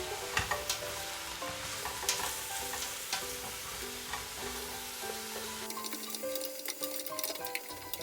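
Vegetables sizzle and crackle steadily while stir-frying in a pan, with occasional utensil scrapes and taps, close and continuous throughout.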